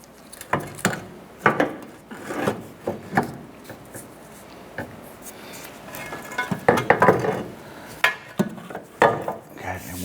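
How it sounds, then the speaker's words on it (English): Metal knocks, scrapes and clunks come from a sway bar being worked out past a lowered subframe on a 2006-2013 Chevrolet Impala, arriving as irregular close bursts with faint background noise. "Let's go ahead and try and work our sway bar out here."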